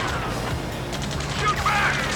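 Gunfire crackles in bursts during aerial combat in Ace Combat 7, a dense noisy barrage with impacts. Radio voices talk over it throughout.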